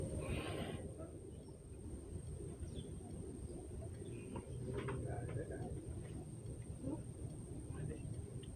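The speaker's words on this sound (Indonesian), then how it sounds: "kita bisa mendengar suara kicauan burung-burung" Birds calling in a quiet Bali mangrove forest, scattered chirps and soft cooing heard faintly over a low rumbling background.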